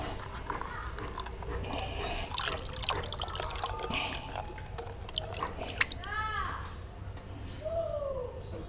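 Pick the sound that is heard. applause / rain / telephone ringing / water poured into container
water poured into container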